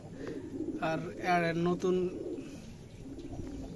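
Racing pigeons coo at a pigeon farm, a few throaty, rolling coos close by with someone speaking briefly over them.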